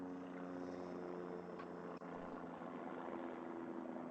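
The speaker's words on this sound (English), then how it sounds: "Sounds like an airplane going over" An airplane passing overhead in the evening, a faint, steady distant engine drone that stays even throughout, with no talking over it.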